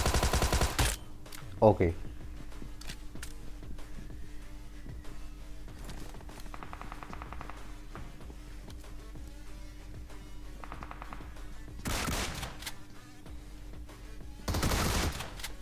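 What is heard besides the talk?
DBS shotgun gunfire in video game BGMI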